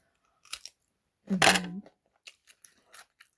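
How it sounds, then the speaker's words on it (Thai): A bite into a home-grown garden melon gives one sharp crunch, followed by several soft, close chewing clicks with short pauses between them. "แตงในสวนกัดกินได้สบายๆไม่มีสารพิษค่ะ อร่อย"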